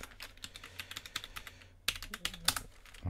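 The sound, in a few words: typing a ping command on a computer keyboard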